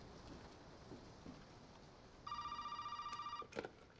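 A telephone rings in the horror game Resident Evil 7 played in VR, a shrill electronic ring cutting in partway through after quiet rain-like ambience, one sustained burst then a brief second blip.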